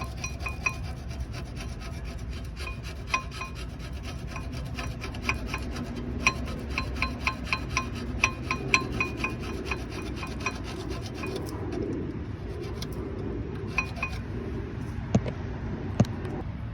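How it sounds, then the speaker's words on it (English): A screwdriver scrapes and chisels dirt off the guides of a Saab brake caliper during a brake pad replacement, giving a steady close-up rasping rub with a scatter of small metallic ticks and clicks and no talking. "Take a screwdriver, like I said earlier, chisel away these areas to clean them up."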